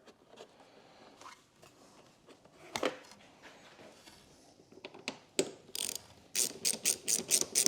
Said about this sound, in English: start them by hand and then see if you can get your ratchet in there